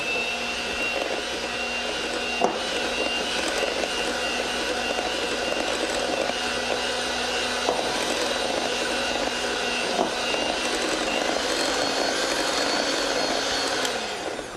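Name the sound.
electric mixer mixing chocolate souffle cake batter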